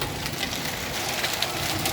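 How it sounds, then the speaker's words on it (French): A 2022 hailstorm gives a dense, steady hiss of hail battering surfaces, constant and fairly loud throughout with faint scattered sharper hits and no voices. "Et voilà, orage de grêle."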